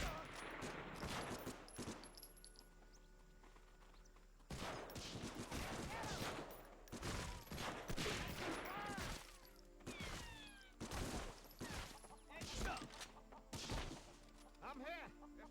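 Rapid bursts of gunfire from the World War II shooter Medal of Honor: Frontline on PS2, loud and dense in repeated volleys with impacts, with game sounds and chatter mixed between.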